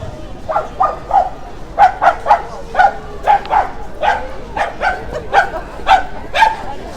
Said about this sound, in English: Small dog has just seen a very big dog, hence the barking.